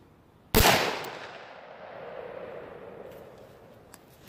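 A single sharp .357 Magnum revolver shot from a 4-inch barrel, loaded with 93-grain hollow points and CCI 550 primers, cracks loudly and then decays into a long, fading echo.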